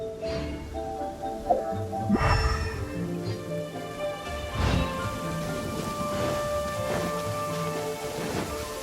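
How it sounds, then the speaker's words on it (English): Rain falls with deep rolling thunder bursts in the video game Genshin Impact, a steady hiss of rainfall broken by a few low booming rumbles, all layered under soft sustained background music. "Where'd this rain come from?"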